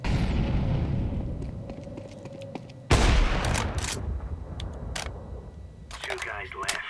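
Gunfire and a thrown fire grenade in Counter-Strike 2 on a bomb defusal map: a sharp burst of shots and a whooshing fire blast, then scattered shots and clanks. Players talk over the sounds.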